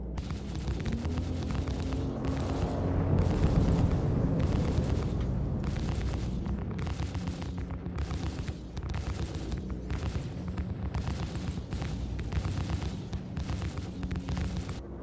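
A spaceship, a Caterpillar, explodes in the video game Star Citizen, giving a heavy rumbling blast that swells then churns on as a long roaring tail broken by rapid repeated pulsing bursts, with no talking.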